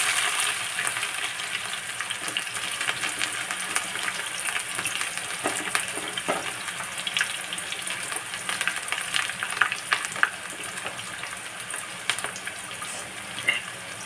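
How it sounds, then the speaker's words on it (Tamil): Onions frying in hot oil for a masi karuvadu thokku, a continuous loud sizzle and crackle with occasional stirring scrapes, close and steady throughout. "எண்ணெய் காஞ்சிருச்சு இதில் வெங்காயத்தை போட்டு கொடுத்துருவோம்"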